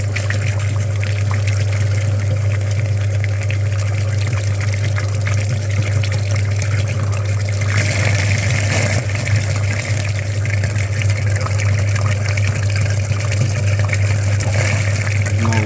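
Pump flushing the heater radiator of a Volkswagen Caddy cooling system, with the filter just washed and the pump switched back on; a steady loud mechanical hum with water gushing and churning throughout, continuous and close.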